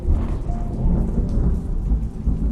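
Steady rain pours on a rainy afternoon while low thunder rumbles loudly and continuously throughout, with no voices.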